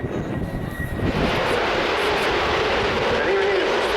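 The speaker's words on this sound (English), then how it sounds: "on the roll from Spanish Air Force Eurofighter, ES-2000" A Spanish Air Force Eurofighter jet starts its takeoff roll at the Royal International Air Tattoo airshow, a broad roaring rush that swells after a second and then holds loud and steady.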